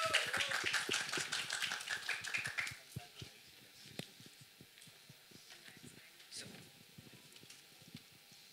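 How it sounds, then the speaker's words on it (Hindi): Audience applause for T-Series chairman Bhushan Kumar coming on stage at a song launch event, dense clapping loud at first then thinning to scattered claps and murmuring voices. "तालियां."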